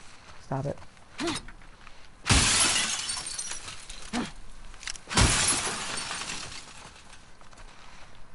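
Car windows smashed in The Last of Us Part II, two loud crashes of breaking glass with tinkling fragments several seconds apart, between lighter knocks and a voice talking in the gaps.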